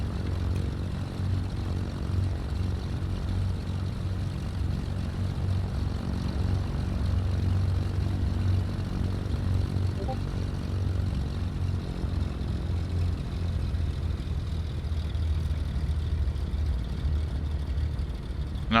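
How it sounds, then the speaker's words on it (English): Cessna C310R twin-engine plane taxiing in Flight Simulator, a steady droning propeller engine hum with a low rumble that holds constant for the whole stretch, no talk. "Release the parking brake. And we'll taxi out."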